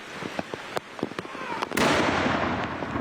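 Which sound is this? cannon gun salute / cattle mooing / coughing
cannon gun salute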